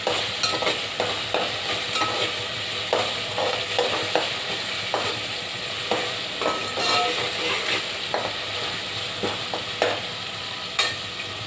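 Onions frying in a pan for lemon chicken coriander rice, a steady bright sizzle with frequent clinks and scrapes of stirring throughout, close and continuous with no talk.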